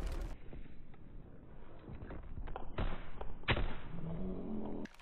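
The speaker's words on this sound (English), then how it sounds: "Incoming enemy artillery." Artillery shells bursting in a WWII shooter game, a run of dull heavy thuds and booms under continuous battle noise, with two louder blasts standing out near the middle.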